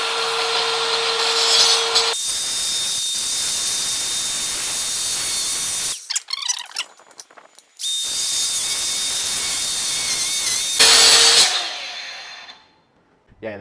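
Angle grinder cutting open a copper air-conditioning tube, loud high-pitched grinding bursts separated by quieter gaps and brief clattering handling noises.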